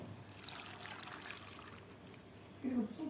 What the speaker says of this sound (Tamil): இதெல்லாம் போட்டதுக்கப்புறம் வேகிற அளவுக்கு நம்ம வந்து தண்ணி இதில் விட்டுடுவோம்